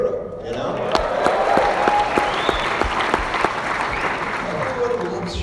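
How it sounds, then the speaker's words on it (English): A large lecture audience in Melbourne breaks into loud, sustained applause with crowd noise, the clapping dense and continuous close by, with a brief whoop rising in the middle. "He gets huge applause"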